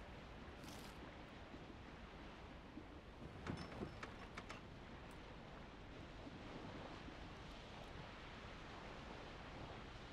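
Wind and sea waves while sailing in the game Wartales, a steady broad rush of surf and gusting air with a brief brighter splash in the middle, continuous and fairly close.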